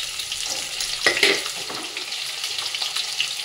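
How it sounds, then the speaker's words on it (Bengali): Cut potatoes sizzle steadily in hot oil, a hissing crackle that briefly swells as pieces are added or stirred, with no talking. "এবার দুটো আলু কেটে রেখেছি সেটা দিয়ে দেবো, এটা একটু ভেজে নেবো।"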